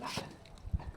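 A couple of short, faint dog barks or yips, quick and distant-sounding, over a quiet background.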